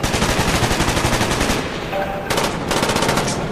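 Rapid automatic gunfire from Call of Duty Black Ops fills the whole stretch, a dense, loud, continuous burst of machine-gun shots with a brief dip midway before the firing resumes.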